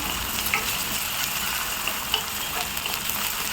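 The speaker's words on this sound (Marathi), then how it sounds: "ठेचाही छानपैकी तेलामध्ये भाजून घेऊया" Crushed green chili, ginger and garlic thecha frying in oil, a dense, even hiss of sizzling with small pops and occasional soft stirring taps, close and steady throughout.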